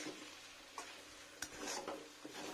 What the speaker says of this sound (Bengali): একটু নাড়া দিয়ে নিই।